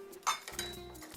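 A kitchen knife clinks while cutting vegetables for pozole verde: one bright metallic clink, then a short ringing tail and a faint second tap, quiet and close.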